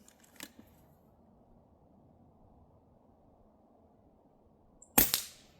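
Two sharp airgun shots from a bullpup air rifle at a target, one faint early crack and a louder, closer snap with a brief ring a few seconds later, separated by near silence.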